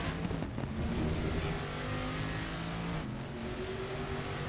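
A V8 racing car in a sim racing league race, its engine roaring loud and close throughout with steady high revs and brief shifts in pitch as it drives a lap.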